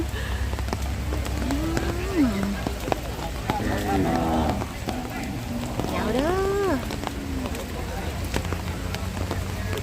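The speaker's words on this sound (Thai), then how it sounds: "เพราะว่าฝนมันตกนะคะ" Steady rain hisses down at an outdoor cattle market in Roi Et, Thailand. It forms a continuous wash of noise while someone speaks and other voices murmur nearby.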